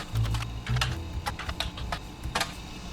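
Rapid typing on a computer keyboard while playing The Roottrees Are Dead, with clustered bursts of close, crisp key clicks and brief pauses between them.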